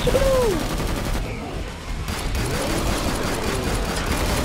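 Gunfire in the video game Killing Floor 2, a rapid, continuous stream of shots rattling steadily through the whole stretch, with a brief lull near the middle and a voice faintly present beneath.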